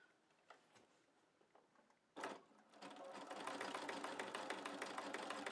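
A sewing machine stitches a rope coil basket: quiet handling sounds, then a sharp knock, then a fast, even mechanical whirring that runs steadily to the end, close and clear.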